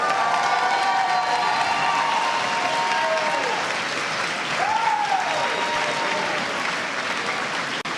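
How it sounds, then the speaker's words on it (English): A large commencement audience applauds certificate, diploma and associate degree graduates in a steady, continuous wash of clapping, with a few cheers and whistles rising above it. "a round of applause for our certificate, diploma, and associate degree graduates"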